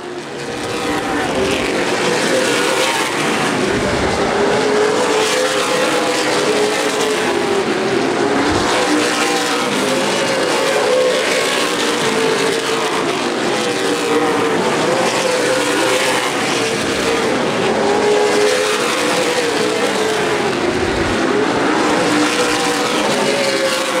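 Stock cars of the CRA Super Series at the 2011 Redbud 300, Anderson Speedway, producing a sustained, loud roar of racing engines that swells and fades as the field sweeps past.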